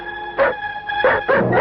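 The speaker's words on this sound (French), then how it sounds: "tu n'es bon qu'à aboyer, t'es un fameux chien de garde" Cartoon guard dog in the 1959 Belvision Tintin film The Secret of the Unicorn, giving three loud close yelping barks with a howling, wailing tone over a sustained musical drone.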